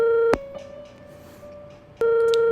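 Telephone ringback tone on an unanswered call: a steady electronic tone cuts off, a quieter gap with faint background follows, then the tone resumes loudly, with no talking.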